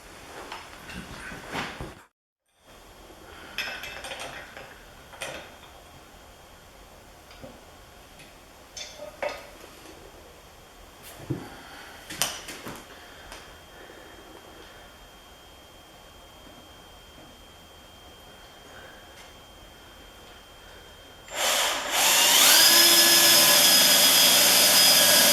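A drill bores out a Kubota snow blower skid shoe part clamped in a vise; soft clicks and handling noises lead to a loud, steady drilling whine near the end.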